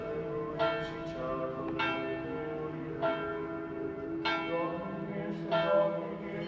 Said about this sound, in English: That was a lot more than 7 chimes on that bell in the church tower.